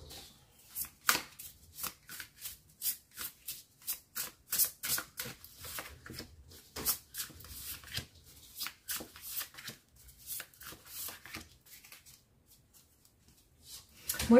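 Tarot cards shuffled and drawn by hand, a close, steady run of crisp riffling and slapping bursts repeating rhythmically throughout, with no talking.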